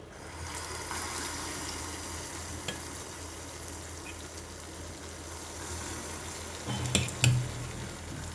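Batter frying in a little oil in a pan gives a quiet, steady low sizzle for several seconds, with a couple of brief clinks and knocks near the end, no voices.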